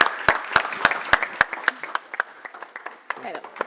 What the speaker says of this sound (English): but again, a great applause,